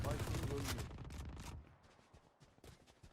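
The Ares machine gun fires in Valorant, a loud sustained burst of rapid automatic shots for about a second and a half, followed by quieter scattered game sounds, with a player talking over it.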